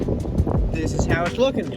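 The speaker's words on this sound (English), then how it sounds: "It's very windy." Wind gusts buffet the microphone outdoors at an enclosure build site, a low blustery rumble running under a person talking throughout.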